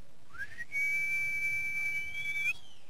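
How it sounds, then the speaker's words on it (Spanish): A man gives a single long, loud whistle of the kind used to stop a car or taxi, rising quickly, holding steady at a high pitch, then cutting off sharply, close and alone. "Ahora de tráfico, si vas a parar un carro."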